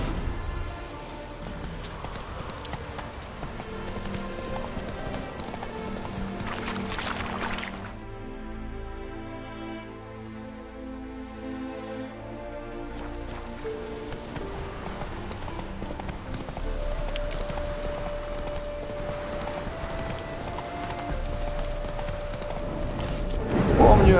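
Horse hooves clip-clopping from Roach, Geralt's horse in The Witcher 3: Hearts of Stone, a steady rhythmic plodding under game music and ambience, with speech around it.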